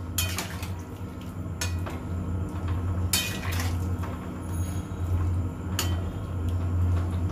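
A spoon or spatula stirring fried paneer with chana masala in a metal pan, giving repeated sharp clinks and scrapes over a low, constant background hum.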